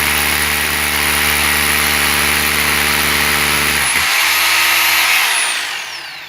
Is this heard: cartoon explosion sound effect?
no